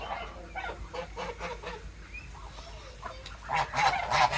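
Geese honk repeatedly at close range, a run of nasal calls that grows louder and more crowded toward the end.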